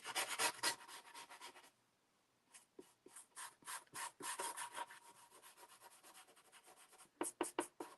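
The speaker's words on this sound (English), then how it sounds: "So now I'm going to just kind of do a little bit of rubbing on here." Close, dry rubbing strokes over a surface to smooth it, rapid bursts of scratchy friction that pause briefly and then resume in quick, rhythmic passes; no speech.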